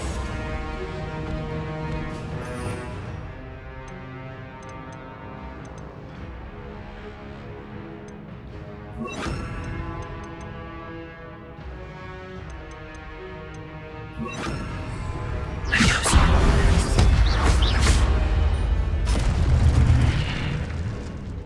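Incendio fire spell cast in the video game Hogwarts Legacy, heard as a swelling burst of roaring flame and crackling impacts over a steady musical score, growing loud near the end.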